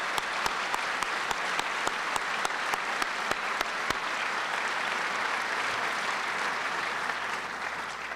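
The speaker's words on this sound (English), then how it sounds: "let's give them a round of applause and thank them." Audience applause fills a hall at a 2009 State of the City address, steady dense clapping for the full stretch with a few sharp louder claps standing out early on.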